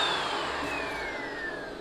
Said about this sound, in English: it's just a vacuum